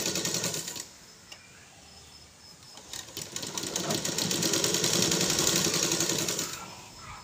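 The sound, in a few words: sewing machine stitching fabric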